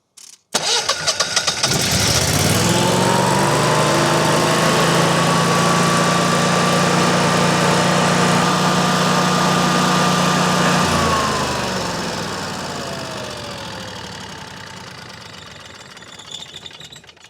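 A Generac 999cc home standby generator cranks and catches after an oil change, air filter and spark plug service, then runs at a loud, steady engine roar close by before the revs wind down over the last few seconds.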